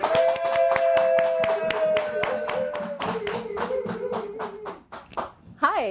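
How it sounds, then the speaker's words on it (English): Audience clapping and tapping for a comedian arriving on stage, a dense run of sharp claps and cheering that tapers off near the end, with a brief voice at the close. "Let's give a huge round of applause to Jennifer McAuliffe."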